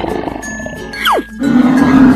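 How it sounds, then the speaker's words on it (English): A lion roars once in a cartoon animal scene, a loud rough growl set against a falling chime-like sweep and a soft musical backdrop. "Lion."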